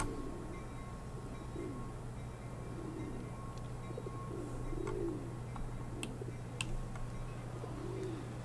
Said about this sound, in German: Hört ihr auch dieses Taubengurren im Hintergrund oder höre nur ich das?